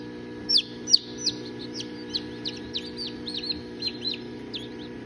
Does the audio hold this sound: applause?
no